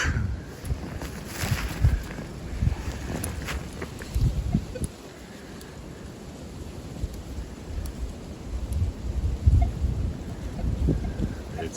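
Wind buffets the microphone in low, rumbling gusts that rise and fall, with faint voices and scattered outdoor noise in the background.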